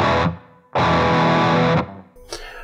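Loud distorted electric guitar chords through an Axe FX 3 amp modeler, played in bursts, each ringing out with reverb, ending in a short higher strum.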